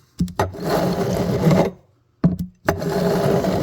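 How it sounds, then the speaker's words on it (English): A large coarse file dressing new frets on a Yamaha FG410A acoustic guitar makes two loud, rasping back-and-forth strokes, each lasting more than a second, separated by a short pause. "I like this big file because it really cuts the work time down quick"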